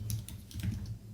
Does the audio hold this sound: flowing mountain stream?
no